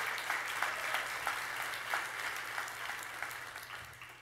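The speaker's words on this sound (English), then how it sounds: "Come on, let's applaud the Lord" A church congregation claps together during a sermon, a soft, even patter of many hands that fades slightly toward the end.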